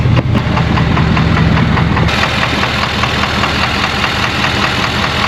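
Truck engine knocking while parked with the hood up, after breaking down towing an Airstream trailer: a steady, loud idle with a dense, rapid ticking knock running through it, no voices.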